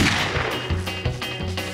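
Rapid cartoon gunshots in a Lucky Luke Wild West scene, several sharp bangs in quick succession over a busy soundtrack, loud and close.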